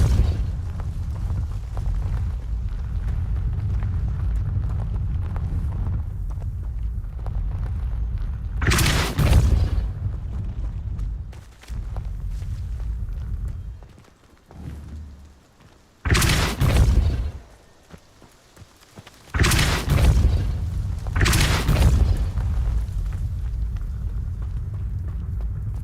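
Depulso repelling-spell blasts in the Hogwarts Legacy video game: several loud, sharp booming bursts spaced a few seconds apart over a low rumbling game background.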